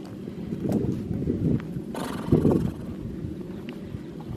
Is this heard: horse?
yes